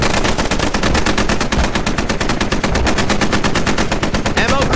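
Machine gun fire in the military shooter Squad, during a large 40-versus-40 battle at an airfield: a loud, rapid and continuous stream of shots in an even rhythm that lasts the whole time.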